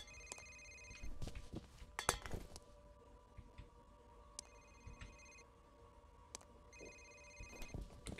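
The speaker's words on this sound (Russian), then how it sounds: "У тебя телефон звонит" A telephone rings in the dark interior of the shooter game F.E.A.R., repeated electronic ring bursts separated by pauses, mixed with scattered clinks and knocks, moderately quiet.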